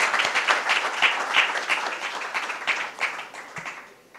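An audience at a national summit session in New Delhi claps for itself, a moderately loud burst of many hands with distinct individual claps that gradually thins and softens toward the end.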